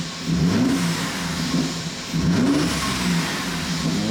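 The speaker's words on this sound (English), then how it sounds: "Let's give it a rev." A Mercedes-Benz C450 AMG W205 with the M276 engine, freshly rebuilt and warming up, revs twice from idle, each rev a loud close rise and fall in pitch.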